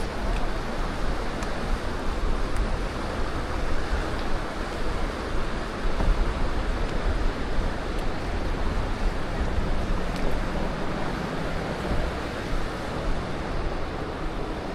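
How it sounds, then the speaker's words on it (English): Broad, steady rushing of a flowing river outdoors along a trail, dense and continuous at moderate loudness, with some wind buffeting mixed in and no voices. "Beautiful river."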